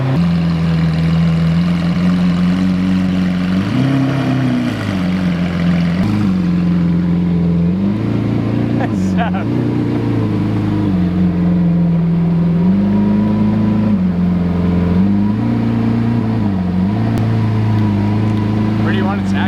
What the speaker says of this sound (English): That is a cold start up on a 2018 Lamborghini Centenario Roadster.